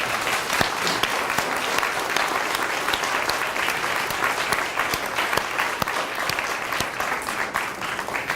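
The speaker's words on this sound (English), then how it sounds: "Let's give these guys a round of applause for their decision and commitment." A crowd applauds steadily throughout at an elementary school DARE graduation, a dense sustained clatter of many hands clapping at an even level.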